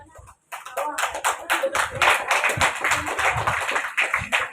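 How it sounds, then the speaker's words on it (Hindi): Applause welcomes the village sarpanch, Madan, at a government upper primary school in Upli Badi, Udaipur, with a crowd clapping steadily and enthusiastically after a brief pause at the start. "गांव के मुखिया सरपंच साहब मदन जी पधार रहे हैं, तो जोरदार तालियां बजाकर सर का स्वागत अभिनंदन करावें"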